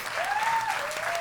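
Audience applauding after introductions at a film screening discussion, a steady wash of clapping through the whole moment with a faint tonal whistle running across it.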